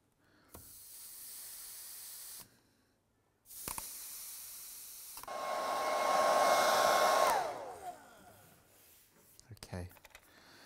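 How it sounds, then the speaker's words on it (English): A hair dryer blows excess water off the edges of a steamed teak veneer on a mid-century G-Plan nest of tables. It runs in separate bursts of steady whooshing, loud and close, with the final burst the strongest and clicks and handling noise between bursts. "I just used the hairdryer there to take off the excess water that was around the outside."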